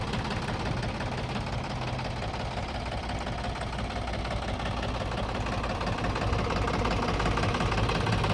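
Mahindra Bhumiputra 275 DI tractor, a 2009 model with a freshly rebuilt engine, runs steadily at idle with a continuous low diesel rumble and faint knocking, close and unbroken throughout with no voices.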